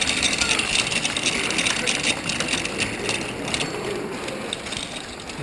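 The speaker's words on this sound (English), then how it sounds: "this is the clutch noise I'm getting." A go-kart with a live axle and no brakes being pushed by hand while its clutch makes a continuous rattling, ratcheting clatter up close, fairly loud and steady for several seconds.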